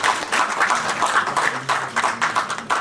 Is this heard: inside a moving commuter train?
no